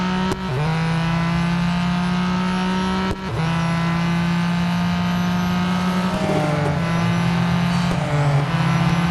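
Acura NSX GT3 race cars on a mixed grid in the video game Real Racing 3, a loud sustained engine drone that holds a steady pitch, then dips and shifts as the cars change gear, with no speech.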